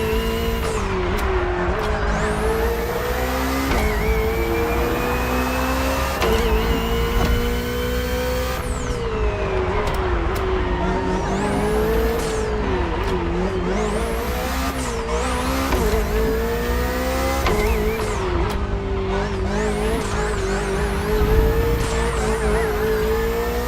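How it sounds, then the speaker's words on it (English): A BMW hybrid V8 race car roars in The Crew Motorfest, the engine climbing and dropping through repeated gear shifts with brief tyre squeals, sustained and loud with no talking. "Just focus on being the best. The hybrid V8 will do the rest."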